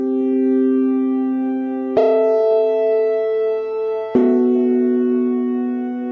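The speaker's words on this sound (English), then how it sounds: "I'm using this gritty lead instrument" A buzzy synthesizer lead holds sustained notes, changing pitch twice with sharp attacks, rich in raspy harmonics and playing alone.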